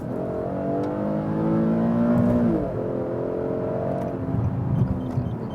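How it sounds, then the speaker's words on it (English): A naturally aspirated 3.7-litre Infiniti QX70 engine pulls hard from 60 km/h, rising in pitch through one gear, dropping at a shift, then climbing again, heard loud and steady from inside the cabin. "Then listen again to the engine and also acceleration."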